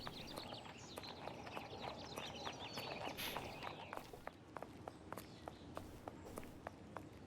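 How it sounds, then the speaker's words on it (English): Footsteps in Sherlock Holmes: The Awakened, a steady run of hard, evenly spaced steps like boots on a firm surface, close and moderately loud over a faint ambient bed. "Footsteps."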